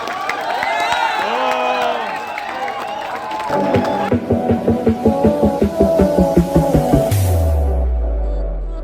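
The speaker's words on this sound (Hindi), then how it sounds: "मोबाइल रख दीजिए और तालियां बजाते रहिए।" A crowd at a fan meet-up with an RJ in Kota cheers with raised voices. It then breaks into loud, rhythmic, unison clapping that pulses steadily before fading out.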